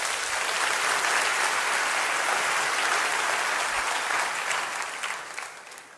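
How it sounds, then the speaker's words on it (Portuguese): A church congregation applauds after a Bible reading: a thick, steady wash of clapping that fills most of the stretch, then thins and fades toward the end. "Vamos aplaudir o texto da palavra do Senhor."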